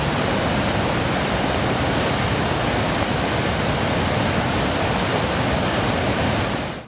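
Swollen rivers in Kozhikode, the Chaliyar, Cherupuzha and Iruvanjhi, overflowing their banks after heavy rain: a dense, steady roar of rushing water that stays loud and unbroken throughout, then cuts off at the end.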